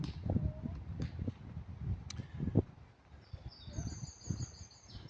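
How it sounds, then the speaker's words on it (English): Birds chirp and call in a park during a walk, short high tweets scattered over soft ambient rustle and low background noise, moderately distant. "Just hear the birds singing."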